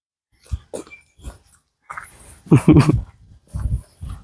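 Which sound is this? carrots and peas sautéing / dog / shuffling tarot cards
dog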